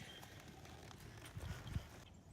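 A horse walks in an arena during a western pleasure riding lesson, its hooves giving a few soft, low clip-clops toward the end over a quiet background.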